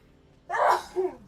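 A single sharp human sneeze bursts out close and loud, followed by a short softer exhale, with a quiet background before it.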